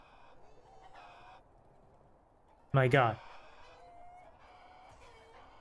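Chickens attacking an elephant in a video game: scattered faint clucks and squawks, then one loud, harsh rooster-like crow in the middle, with someone briefly talking nearby.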